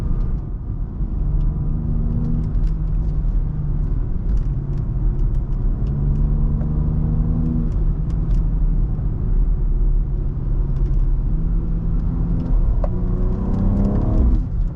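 Engine of a lifted and stretched BMW M3 idling and running steadily, a continuous loud low rumble with faint rising revs heard from inside the car, no talking.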